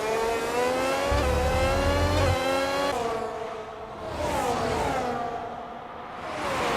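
F1 race cars in an F1 video game at Baku roar past with loud, rising and falling engine whines as they overtake side by side, pitch shifting in a sweeping pass, with no talk.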